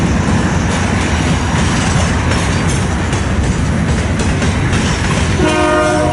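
Westbound freight train rumbling past loud and close, a steady roar of wheels and rail clatter coming off the former C&W line toward the Transcon, with a horn blast sounding near the end.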